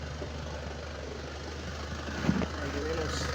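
A Renault Clio Mio idles with a combustion misfire, giving a steady low engine hum with faint uneven pulses and a brief knock near the end, set against background noise.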